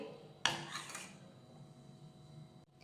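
A spoon clacks sharply against a pan, then scrapes and rubs softly as sugar is stirred into an onion- and garlic-free vegetarian dish, the mixing sound fading under a quiet kitchen background.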